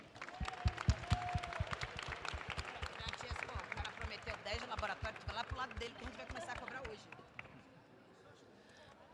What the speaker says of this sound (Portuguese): Então, palmas para essa garotada aí